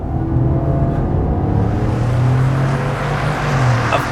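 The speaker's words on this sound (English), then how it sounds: "the great sounding 5-liter V8 is back for 2018" Deep steady engine rumble of a 2018 Ford F-150 SuperCrew's 5.0-litre V8, a continuous low drone with a faint rising tone near the end, heard alone and fairly loud.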